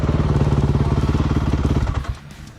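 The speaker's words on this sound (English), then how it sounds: "Turn your goddamn bike off." Motorcycle engine running close by with a steady pulsing throb that cuts off abruptly near the end, leaving a brief quieter tail.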